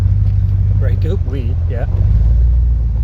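An old high-mileage vehicle engine runs steadily while driving, a low continuous drone throughout, with a voice speaking briefly over it.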